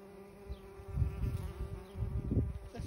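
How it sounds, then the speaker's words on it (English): Bees buzzing in Scotland, a low droning hum that swells and fades in uneven pulses, fairly quiet and close, with no talk over it. "This is a bee documentary"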